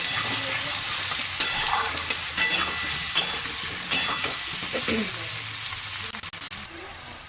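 Food frying lightly in oil in a home kitchen, just before ginger goes in: a steady bright sizzle and hiss broken by repeated scraping stirs and clinks, close and fairly loud.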